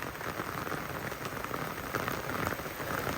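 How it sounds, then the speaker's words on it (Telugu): Steady rain falls on a hard surface, a dense, even patter that holds at the same moderate loudness throughout with no voices. "మళ్ళీ వర్షం స్టార్ట్ అయింది"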